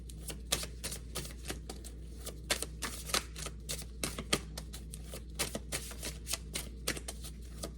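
Tarot cards are shuffled by hand during a reading. A long run of quick, light, irregular paper clicks and flutters sounds close but faint over a steady low hum.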